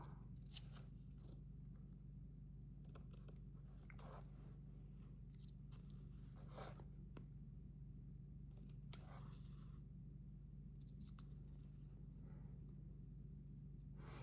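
Scissors trimming a stamped paper craft piece, a scattered run of small quiet snips and crisp cuts in uneven bursts over a steady low hum, faint and close with no talking.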